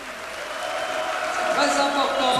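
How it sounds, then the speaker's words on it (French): Boxing crowd at a French light-heavyweight championship bout applauding both fighters, a steady wash of clapping that swells slightly near the end, with a commentator talking over it. "Ils sont applaudis tous les deux"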